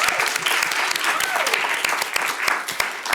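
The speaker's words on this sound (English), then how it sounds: "if we could offer her a round of applause and thank her tonight" An event audience at a career night applauds Nicole Hoffner with a steady, dense round of clapping that holds full and loud from start to finish.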